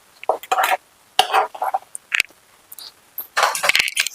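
A spoon stirs chicken mujboos biryani in a metal pot, giving bursts of scraping and clinking in irregular strokes with brief pauses between, close and fairly loud.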